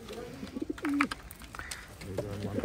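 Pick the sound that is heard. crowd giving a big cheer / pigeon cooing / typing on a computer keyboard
pigeon cooing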